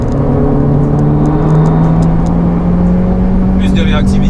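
A Honda CR-V accelerates in sport mode, its engine droning with a rising, steady tone heard from inside the cabin, loud and continuous, with a brief burst of speech near the end.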